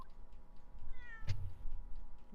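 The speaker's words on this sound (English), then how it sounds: "Oh shit, cat!" A cat meows once in The Great Ace Attorney video game, a short clear rising meow over quiet game background ambience, with no talking.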